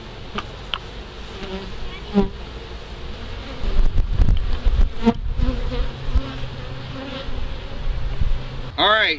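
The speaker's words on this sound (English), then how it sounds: "Let's come over here and check out these bees." Honey bees buzz around a cluster of backyard beehives, a continuous close drone with individual bees zipping past the microphone amid light wind buffeting.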